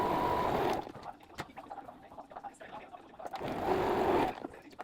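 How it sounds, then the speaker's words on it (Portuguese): A sewing machine runs a safety seam on fabric in two steady whirring bursts, one at the start and one near the end, with a quieter stretch between where a voice talks softly. "Então, a gente vai fazer uma costurinha de segurança."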